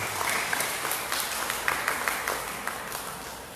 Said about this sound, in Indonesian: Tepuk tangan buat kaum santri.